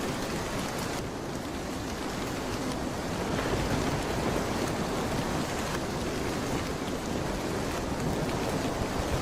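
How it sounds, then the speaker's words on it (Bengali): A steady, dense downpour of rain falls on a stormy night in an animated Bengali folk tale, with a constant wash of drops and a low rumble underneath. "একে তো বৃষ্টি, তার উপর বজ্রপাতের ভয়।"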